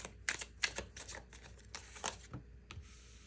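Tarot cards being shuffled and pulled, heard as quiet, close riffling snaps and soft slides in irregular bursts, faint and without any voice.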